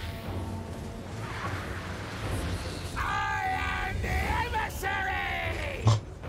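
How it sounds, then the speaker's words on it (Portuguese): A battle game character lets out repeated loud, strained yells and groans over a low rumbling backdrop, the shouting strongest in the latter half with a sharp thump near the end. "É muita gritaria esse boneco."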